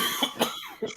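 A few short, harsh coughs in quick succession, close by and moderately loud, with no other sounds around them.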